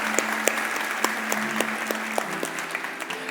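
A church congregation claps in a steady patter of applause, moderately loud and continuous, with no voices over it.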